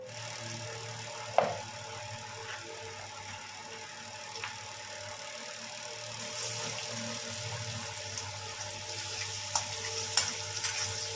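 Salted teasel gourd (kakrol) fries in a pan with a steady, fairly quiet sizzle that swells slightly later on. A sharp knock or clatter comes early, along with a few light utensil clicks, and no one speaks.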